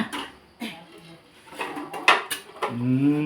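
Metal pot being scrubbed and clattered, with scraping strokes and clanks of cookware in a home setting, close and fairly loud with a voice briefly heard near the end.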